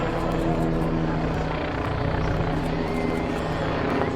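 A helicopter is in flight as a skydiver jumps from it, giving a loud, continuous rotor and engine drone with a steady low hum and faint rhythmic chopping throughout.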